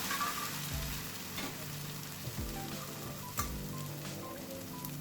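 Rava dosa batter hits a hot pan and sizzles loudly and continuously, with a few soft scraping and tapping sounds from the ladle as it spreads; no voices.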